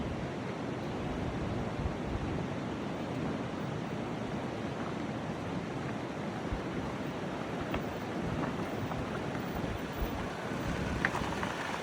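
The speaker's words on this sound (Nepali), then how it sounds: "एकदम चिसो हावा चलिरहेको छ" Cold wind blows across the mountain trail from Manang toward Tilicho Lake, a continuous broadband roar that buffets close against the microphone for the whole stretch, with no voices.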